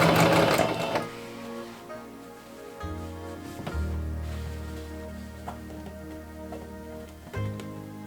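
A sewing machine with a rolled hem foot hems the edges of a kimono, its motor whirring in steady runs with a couple of pauses and restarts, close and fairly quiet.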